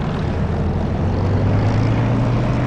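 An aircraft engine drones loudly and steadily while the plane taxis in the DCS flight simulator game, a continuous propeller-like rumble with no pauses and no voices.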